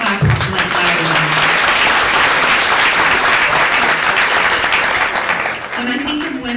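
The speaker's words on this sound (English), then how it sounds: "When I think of Wendy, you guys can clap like that." An audience at an awards ceremony breaks into sustained, dense applause honoring a forgiveness award recipient, loud and continuous, with a voice briefly audible at the start and end.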